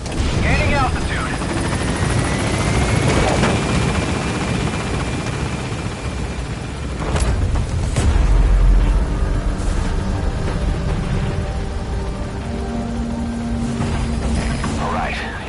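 A helicopter in Metal Gear Solid 5 lifts off from a landing zone, its rotor wash and engine roaring steadily and loud throughout, with mechanical clanks mixed in and a radio voice speaking over it.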